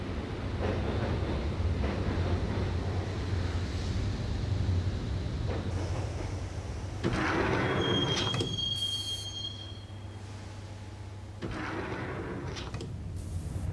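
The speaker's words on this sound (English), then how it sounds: "the train doors had already shut behind me, and I was in for the ride" A subway train ride in the 2001 Max Payne video game: a continuous rumbling carriage with squealing wheels and metallic screeches rising and falling over about fourteen seconds.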